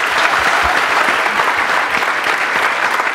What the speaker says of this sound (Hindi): Big round of applause for both of them.